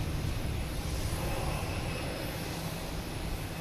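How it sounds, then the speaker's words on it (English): American Airlines Embraer 175 regional jet at Boston Logan, a steady distant engine roar with a low rumble and faint high whine, continuous and even throughout. "We have American Airlines heading to Cincinnati."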